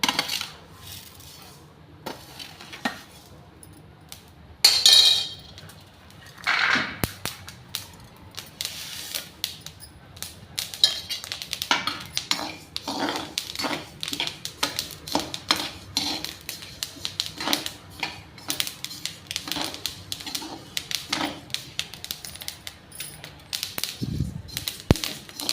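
Flax seeds dry-roasting in a pan make rapid, irregular ticking and clicking with metal spatula scrapes, sparse at first and then dense and busy as stirring continues.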